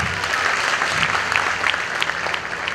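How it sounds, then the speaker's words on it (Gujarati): Audience applause at a community get-together fills the whole moment, a dense, steady patter of many hands clapping at close range with no pause. "એટલા યુવા ટીમ માટે આપણે તાળીઓ પાડીએ"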